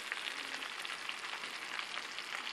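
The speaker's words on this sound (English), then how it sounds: "I'm adding in my onions now" Onions frying in a pan for Peruvian lomo saltado, a quiet, even crackling sizzle with fine popping throughout, close by and steady, no voices.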